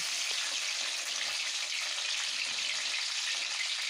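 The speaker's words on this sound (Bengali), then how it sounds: "মাছগুলো ঠিক ব্যাটারের মধ্যে ঠিক এইভাবে মাখিয়ে একে একে আমি তেলের মধ্যে দিয়ে দেব" Battered fish pieces frying in hot oil, a steady broadband sizzle and crackle holding even and close throughout with no talking.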